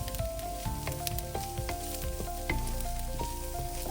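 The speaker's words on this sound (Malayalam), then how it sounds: "സവോള ഒരു ബ്രൗൺ നിറമാകുന്നത് വരെ നമുക്ക് വഴറ്റിയെടുക്കാം." Two chopped onions sautéing in melted butter for butter chicken: a steady, moderate sizzle with crackling pops and soft stirring clinks, fairly close, and no talking.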